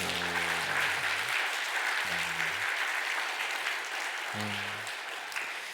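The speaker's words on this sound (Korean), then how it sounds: "우리 감사하다고 힘차게 박수." A church congregation applauds during a Sunday worship service, a dense and sustained wash of clapping that fills the room. Low tones from the sound system come in three brief bursts underneath it.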